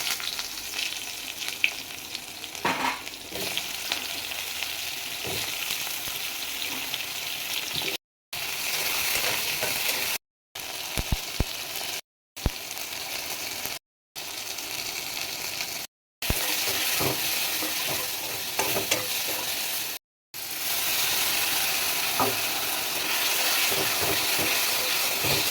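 Eggplant pieces fry in hot oil with black cumin, giving a loud, steady sizzling hiss that runs nearly throughout, broken only by a few abrupt short gaps.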